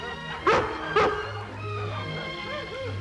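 Two sharp barks from Lassie, a collie, ring out close by, followed by softer whimpering yips over a low background hum.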